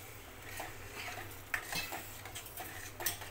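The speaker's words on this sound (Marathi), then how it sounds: "त्यात आपण आता अजून पाणी टाकून घेऊया।" Udad dal cooked in oil in a pot, with water added and a spoon stirring; soft scraping and clinking of utensil against the pot, with a few sharper knocks, close and steady.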